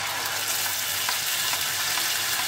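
Oil fries steadily in a pan while paneer is cooked, giving a dense, continuous hiss and crackle that stays close and even throughout, with no voices.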